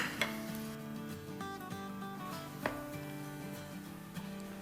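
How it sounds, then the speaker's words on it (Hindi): Chopped small onion sautéing in an Instant Pot on sauté mode, a steady close sizzle with occasional stirring clinks against the pot, continuous and fairly quiet with no talking. "अब इसमें हम डाल देंगे एक छोटी प्याज जिसको मैंने चॉप कर लिया है और इसको सॉटे करेंगे"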